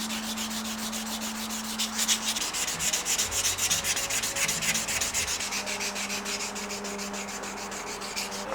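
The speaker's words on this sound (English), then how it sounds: "But we are ready to sand." Steady, rhythmic rubbing of sandpaper against the body panel of a VR/VS Commodore, a continuous close scratchy hiss with a regular back-and-forth pulse and a faint hum beneath.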